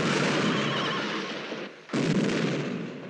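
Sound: horses neighing

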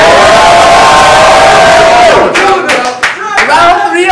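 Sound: rap battle crowd cheering and making noise

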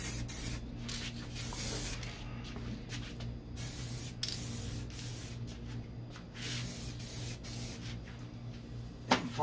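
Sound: spray painting second coat on Corvette door

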